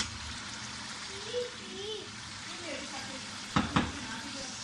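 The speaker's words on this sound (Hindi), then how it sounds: "और इसको फ्राई करते हैं।" Meat frying in a pan with red chili powder, turmeric and spices, a steady low sizzle with a couple of brief clinks near the end.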